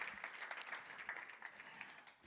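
An audience at a foundation's annual general meeting warmly applauds two speakers, a short, moderately faint patter of many hands that tapers off toward the end.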